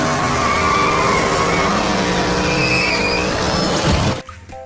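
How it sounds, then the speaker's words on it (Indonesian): A toy McQueen race car drives along with loud, continuous motor noise and tire squeal, ending abruptly near the close. "Ada mobil balap McQueen."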